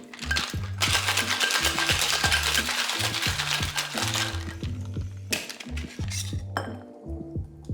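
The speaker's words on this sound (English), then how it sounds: "I'm gonna fill the shaker with ice and shake it 10 to 15 seconds" Ice cubes rattle hard inside a cocktail shaker being shaken for a highball, a fast rhythmic clatter of clinks and knocks, loud and close, with a few brief pauses before the shaking resumes.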